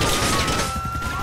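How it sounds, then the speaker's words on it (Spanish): A loud, dense explosion blast in GTA 4 fills the short moment with heavy low rumble and broadband crackle, no talk over it. "Tengo que ver esta explosión"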